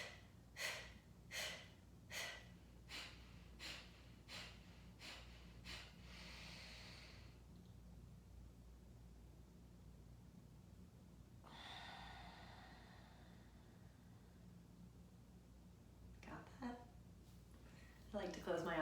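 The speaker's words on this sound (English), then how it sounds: "we're gonna do all inhaling and exhaling out the nose" Kapalabhati yoga breathing: a run of sharp, forceful nasal exhales in a quick regular rhythm, about eight pumps, then quiet breathing and a couple of louder breaths, soft and close.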